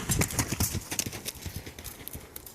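A horse running outdoors during a training session, its hooves striking the ground in a quick, rhythmic clip-clop close by, loud at first and then gradually softening.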